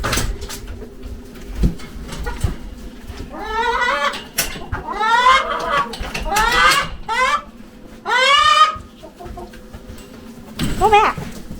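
Goats bleat excitedly over and over, with several loud wavering calls at close range, as they crowd around for mealworm treats on a snowy day. Other farm animals, including chickens, rabbits and horses, are gathered nearby, and faint background noise runs under the calls.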